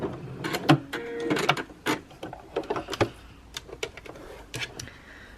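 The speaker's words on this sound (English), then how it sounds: "you're going to sew all the way round till you get back to where you started" A sewing machine stitching scrap fabric all the way around a pattern weight disk, with close mechanical whirring in short bursts and starts and stops, and no talking.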